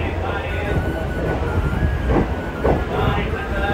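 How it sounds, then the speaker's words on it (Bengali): Loud, continuous rumble and rattle of a moving train through the hills near Sevoke, with steady clattering and a few louder bumps; no clear talk. "সো গাইস ফাইনালি রওনা দিয়ে দিয়েছে ট্রেন।"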